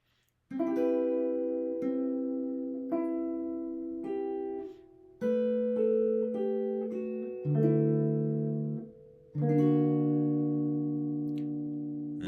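A solo guitar plays a few slow, ringing chords and single notes, each left to sustain before the next, clean and close with no voices.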